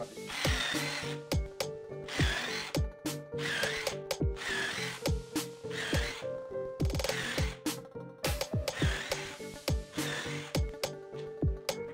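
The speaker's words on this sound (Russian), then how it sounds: "Берем сверло и просверливаем." A power drill bores repeatedly through wooden slats in bursts, each whirring run ending with a crunchy bite through the wood, followed by brief pauses.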